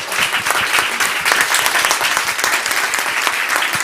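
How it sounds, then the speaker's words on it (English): Dense, steady applause from an audience at a reception for speakers at an engineering and science event, many hands clapping continuously and fairly close, with no talk over it. "let's just join with me in an applause for all our speakers today"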